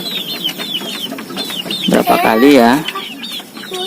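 Free-range village hens cluck in short repeated calls close by, one louder drawn-out squawk rising in the middle, with a person speaking briefly alongside.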